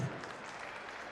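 Faint, steady clapping from an audience at a Kanakotsava public gathering, greeting D. K. Shivakumar; a brief, even patter with no voices on top.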